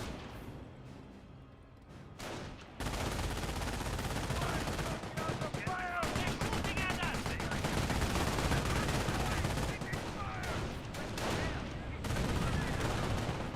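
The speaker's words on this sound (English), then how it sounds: "MG42 firing away, suppressing both these squads." MG42 machine gun firing in the Company of Heroes video game, long rapid bursts with heavy booms and other gunfire layered over, loud and continuous, with a voice talking over the battle.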